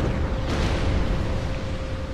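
Dark Souls 2 explosion on PC, a deep rumbling roar that fills the whole stretch, with a slightly brighter burst near the middle.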